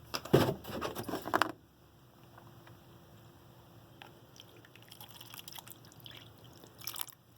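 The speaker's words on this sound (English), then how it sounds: "And now I have ordinary distilled water that I'm going to pour in the cup." Distilled water poured into a cup lands in a short burst of splashing and dripping, followed by a quieter stretch of faint trickles and small drips, with a brief slosh near the end.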